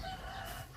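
Chickens cluck and a rooster crows in a short, faint burst at a rural home, with no talk over it.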